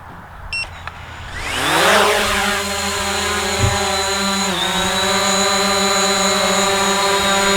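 Hubsan Zino drone lifting off from a landing pad: a small click, then the motors spin up into a rising whine that settles into a loud, steady, multi-toned propeller buzz held to the end.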